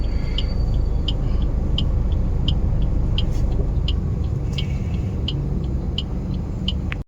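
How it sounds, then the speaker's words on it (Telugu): Inside a cab stuck in a Hyderabad traffic jam between Jubilee Hills and Film Nagar: a steady low engine and road rumble fills the cabin, with faint, regular ticking clicks over it. "ట్రాఫిక్ జామ్ ఎక్కడ అంటే ఇది"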